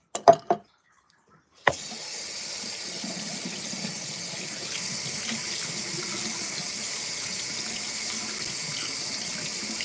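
After a few brief knocks and a pause, a tap turns on and water runs steadily into a sink while dyed hair is rinsed, a continuous moderate hiss with no talking.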